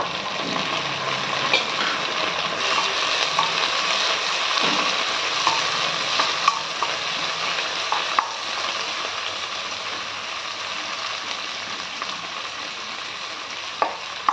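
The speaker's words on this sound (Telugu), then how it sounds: "కడిగి చక్కగా శుభ్రం చేసుకున్న పుదీనా మంచిగా వేగాలండి. ఇది కూడా నూనెలో" Washed mint leaves fry in oil over a high flame for a chicken curry, giving a steady close sizzle with scattered ladle clicks and scrapes throughout, no talking.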